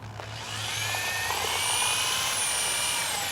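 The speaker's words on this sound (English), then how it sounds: "To mix up this amount of plaster, I like to use a power mixer." A Hyde power mixer with plastic impellers churns plaster, a steady whirring motor drone with broadband grinding hiss that starts after a brief moment and runs continuously and fairly loud, with no talking.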